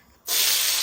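Two small garlic cloves drop into hot oil while tempering daal: a sharp, loud sizzle erupts after a brief quiet moment and holds as a steady, bright hiss.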